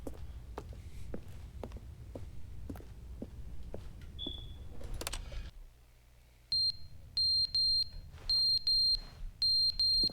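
A repeated electronic beep sounds in The Stanley Parable, coming in regular evenly spaced pulses over a quiet background after earlier soft footsteps and a brief tone.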